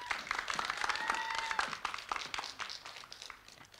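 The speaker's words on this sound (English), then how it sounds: "Let's give him a round of applause." Applause from a crowd, dense clapping that swells then thins out over a few seconds, with a faint whistle-like tone riding on top.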